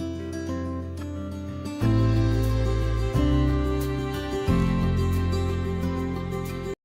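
A full orchestral pop arrangement plays alone, with strong bass and layered harmonies that swell in several loud sections.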